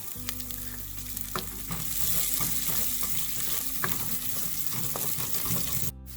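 Ginger garlic paste and sliced green chillies fry in hot oil for a biryani, with a bright, continuous sizzle broken by scraping stir strokes and a few sharp crackles before it cuts off abruptly.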